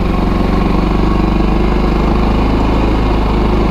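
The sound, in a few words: Kazuma Jaguar 500 4x4 ATV engine starting in gear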